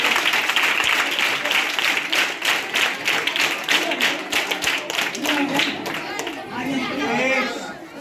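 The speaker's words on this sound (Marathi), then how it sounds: "तसं टाळ्या वाजवायला पाहिजे." Audience applause from a classroom gathering of children, steady clapping mixed with chatter and voices, fading slightly toward the end.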